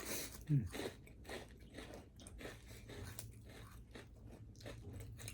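Crisp crunchy chewing of sour fruit, repeated bites and mastication close to the mic, with a brief louder crunch early and soft speech murmuring underneath.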